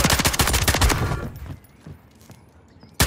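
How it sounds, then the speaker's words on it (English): Loud rapid gun blasts from a video game match open the sequence, then fade to scattered distant shots before one sharp blast at the end; no talking. "All I hear is a shotgun going off"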